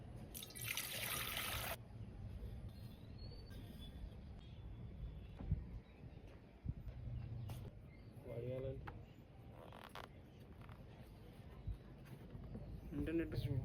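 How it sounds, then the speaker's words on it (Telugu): Water poured into a bowl in a home kitchen while preparing dried-fruit batter, a brief loud gushing splash at the start followed by quieter trickles, clinks and handling noises. "ఫస్ట్ ఈ బౌల్లో నీళ్ళు పోసుకుందాం"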